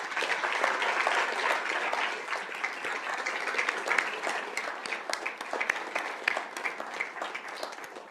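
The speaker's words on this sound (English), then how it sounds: "give you a big round of applause" Warm, sustained applause from a crowd at a school governing board meeting honoring a coach and athletes, dense clapping that holds steady for several seconds before slowly thinning.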